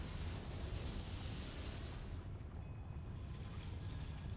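Confringo blast spell from a video game, a broad, sustained rumbling roar of explosion that fills the space, then slowly thins out into a softer hiss; no talking.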